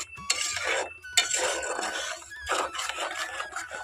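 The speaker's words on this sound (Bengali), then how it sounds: "এই পাকা আমটা খুব ভালোভাবে নাড়াচাড়া করে কিন্তু ঘন করে নিতে হবে এটাকে" Ripe mango pulp is stirred in a dry wok for homemade mango juice, with metal spoon scrapes and clinks against the pan in short uneven bursts, close and moderately quiet.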